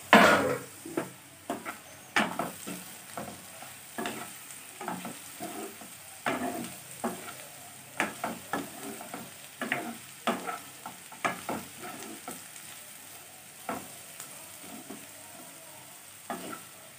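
Bottle gourd and soybean curry fries in a pan, a steady sizzle broken by repeated scraping stirs and occasional clinks of a spoon against metal, fairly close and with no talking.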